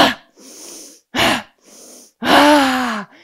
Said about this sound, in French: on fait un pas vers l'avant en expirant avec la bouche